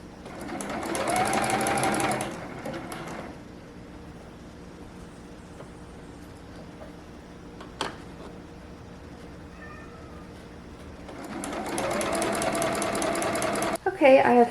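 Sewing machine stitching along the edge of shifty, heavily pinned fabric for a 90s playsuit, running in steady bursts at the start and end with a quieter pause between, close and fairly loud.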